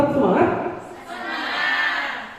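Audience at an indoor ice-breaking session, a loud burst of group cheering and shouting that dips briefly, then swells again into a sustained crowd roar.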